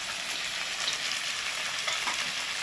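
Potato and pumpkin fry in a pan with soaked chickpeas just added, making a loud, dense, continuous sizzle with light stirring underneath and no voices.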